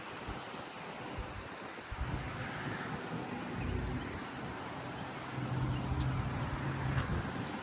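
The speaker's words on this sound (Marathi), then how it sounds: "पण वारा एवढा आहे आणि थंडी आणि वारा." Strong wind buffeting at the seaside by the ocean, a continuous roaring rush with surf-like noise, gusting louder toward the end, no talk.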